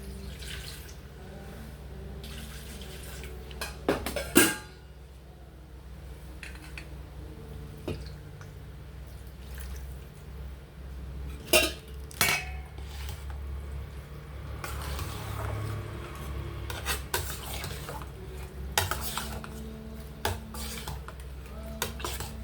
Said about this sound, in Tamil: இப்போ இந்த தயிர் வச்ச பாத்திரத்துலேயே கொஞ்சமாக பால் ஊற்றி கலக்கிக்கிறேன் நான்